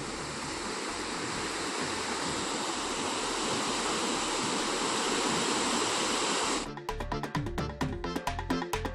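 Rushing, roaring water from a waterfall in flood below the Manimuthar dam, a steady broadband wash for most of the clip before it cuts abruptly to a different, more broken sound near the end.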